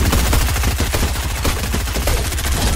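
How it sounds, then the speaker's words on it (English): Video game gunfire rattling in a dense, continuous automatic burst, loud and close, with rapid repeated shots filling the whole stretch. "this kid's shooting at me"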